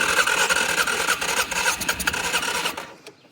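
An old ATV engine, one of six bought cheaply in Maine, starts up and runs loud and rough with steady sputtering, then cuts out and fades near the end.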